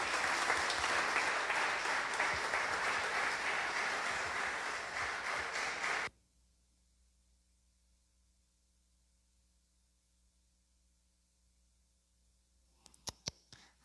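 A church congregation claps and applauds together for about six seconds, a dense, steady wash of hands that stops abruptly, leaving near silence before a few faint knocks at the end.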